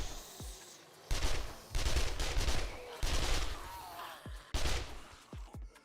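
Bursts of submachine gun fire in the survival game 7 Days To Die, four or five loud rapid volleys separated by short pauses, with thuds and impacts between them.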